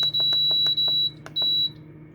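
A kitchen timer gives a rapid run of sharp, loud beeps close up as its buttons are pressed, then a longer steady tone, with no talking.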